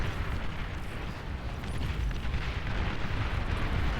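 An atomic bomber's strike in the strategy game Beyond All Reason sets off a deep, rumbling explosion that rolls on as a dense, sustained roar for several seconds, with no talk.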